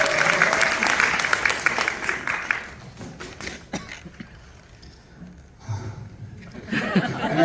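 Church audience applauding, a dense clapping burst up front with chuckles and laughter mixed in, fading to quieter murmurs and scattered claps before swelling again near the end.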